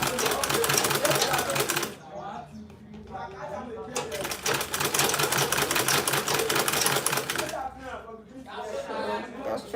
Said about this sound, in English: Just sewing the handle now.